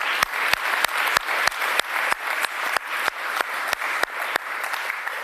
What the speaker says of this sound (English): put a big round of applause together for everyone who participated